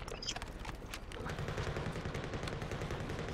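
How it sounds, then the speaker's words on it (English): Gunfire rattles in Call of Duty Modern Warfare, dense repeated shots sounding fairly distant and continuous, mixed with game ambience and faint background voices. "Somebody's shooting at us."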